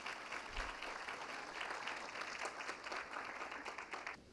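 Sustained audience applause at an awards ceremony, a dense wash of clapping from a full room that keeps an even level throughout with no voices on top.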